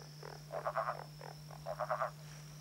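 Yellow-spotted bell frog calling on the Southern Tablelands: two bursts of rapid, pulsed croaking notes, each about half a second long, under a steady background hum, with no talking.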